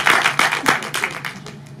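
An audience applauding a guest in front of the hall, a short burst of close clapping that tapers off over a couple of seconds.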